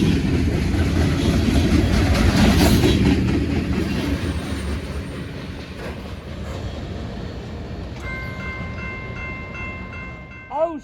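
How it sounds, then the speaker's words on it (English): A maintenance-of-way train rumbles past at close range, its steady loud roar and rolling clatter slowly fading, before a sharp multi-note horn blast near the end. "No, that's a maintenance away train."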